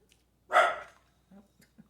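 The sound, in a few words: dogs barking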